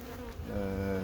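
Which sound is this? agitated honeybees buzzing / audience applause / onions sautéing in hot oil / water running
agitated honeybees buzzing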